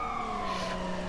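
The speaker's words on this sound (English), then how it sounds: "Okay, that's a police car." A police car siren from the video game Watch Dogs 2 wails steadily and loudly, its tones sliding slowly and continuously through the whole moment, with no speech over it.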